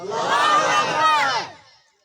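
A crowd of men roars a loud, unified takbir response at a religious sermon in Goth Missan Nandhi, Sindh, one sustained collective shout lasting about a second and a half before fading out.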